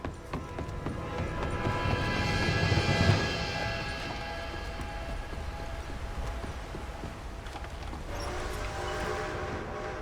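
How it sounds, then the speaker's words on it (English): Train approaching in the video game Red Dead Redemption 2, a continuous rumbling, clattering roll with a rising whine that swells and then settles into a steady mechanical rattle, no voices. "The train!"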